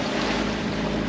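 A boat's engine runs steadily at sea on a calm, windless day, producing a loud, continuous drone with rushing water noise and no pauses.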